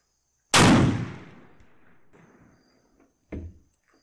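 A Kar 71 rifle with a restored rusted barrel firing a converted 45-70 brass round: one loud, close shot with a long fading echo, then a shorter metallic clack about three seconds later.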